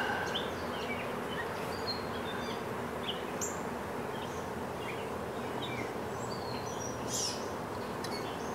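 Bees from a returning swarm buzz steadily and softly outdoors, landing on a hive box, with scattered bird chirps and tweets over the continuous low drone.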